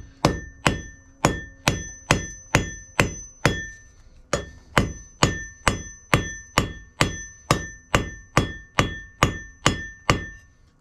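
A hammer strikes a steel anvil in an evenly paced run of about twenty sharp, ringing blows with a brief pause partway through, each hit decaying with a bright metallic tone; close and loud, with no talking.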